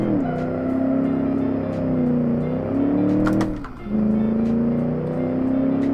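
A Bark muscle car in the Automation driving game, styled on a 1966 Gasmea, drones steadily on a test track, its engine tone rising and easing with the throttle and dipping briefly once, loud and close throughout.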